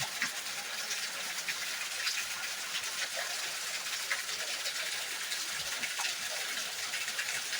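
Heavy monsoon rain pours steadily in Hoshiarpur, Punjab, with water gushing from a rooftop drainpipe; a dense, continuous hiss of rainfall and splashing runs close and loud throughout, with no talk.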